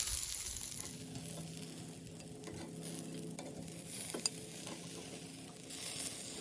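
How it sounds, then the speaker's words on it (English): Fries crackling in a deep fryer during the last stages of a Jamaican jerk chicken thigh cook, giving a steady sizzling hiss with occasional faint clinks, no voices. "We're also moving the fries out into the fryer because we're in the final stages here."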